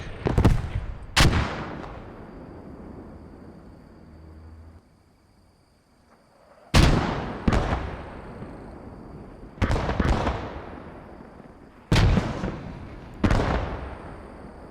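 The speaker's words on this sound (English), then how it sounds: "using artillery to try to clear out this forest" Artillery shells pound a forest in the World War II shooter Post Scriptum, with about eight heavy booming impacts arriving in irregular pairs and clusters, each a sharp crack with a long rumbling decay, separated by quieter ambient stretches.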